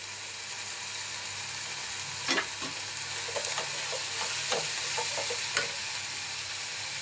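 Tomato and turmeric frying in a pan for a fenugreek leaf gravy, a steady close sizzle with occasional sharper scrapes and stirring knocks, no voices.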